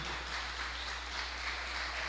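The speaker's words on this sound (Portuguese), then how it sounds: "As palmas engrandecem Jesus." A church congregation claps in praise during a service, a faint, even wash of applause heard from a distance over a steady low electrical hum.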